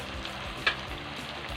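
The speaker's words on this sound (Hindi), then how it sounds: "डीप फ्राई करते हैं इसलिए ऑयल थोड़ा ज़्यादा रखना चाहिए" Chicken sticks deep frying in plenty of hot oil, a steady, fairly quiet sizzle with one brief crackle partway through and no talking.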